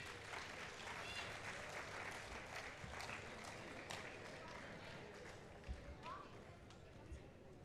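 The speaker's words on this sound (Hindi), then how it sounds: "जोरदार तालियां हो जाएं।" An audience at a felicitation ceremony gives scattered, moderate applause, a crowd clapping at some distance while voices chatter throughout.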